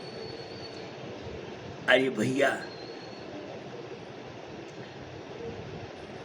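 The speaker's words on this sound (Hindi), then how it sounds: "गाड़ी झपक झपक चली जा रही" A passenger train running on rails, a steady rumbling rattle that continues throughout, with a voice briefly speaking over it near the start.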